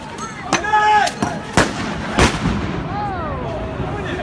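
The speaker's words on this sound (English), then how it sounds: "Grenades!" Sharp grenade-like blasts ring out at a street protest, several loud close bangs spaced a second or so apart, with shouting voices and whistles between them.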